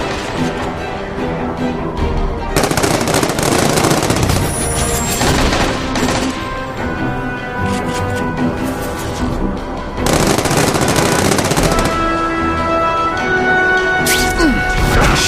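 Gunfire and crashing impacts in the action game The Amazing Spider-Man 2, loud and sustained in long bursts with a short lull between them, mixed with shouting voices and game music.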